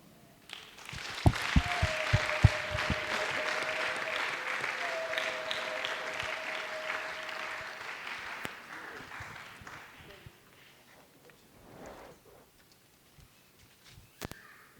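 Applause from a congregation at a church service swells into sustained, fairly distant clapping, then thins out and fades to scattered claps, with speech mixed in.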